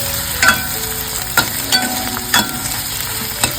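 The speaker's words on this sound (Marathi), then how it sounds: "इकडे आता आपण आलं लसूण पेस्ट घालून घेतले व्यवस्थित परतावून घ्यायचंय" Ginger garlic paste frying in a pan with bay leaf for an egg masala, a loud close sizzle with several sharp scraping stirs spaced through it, no voices.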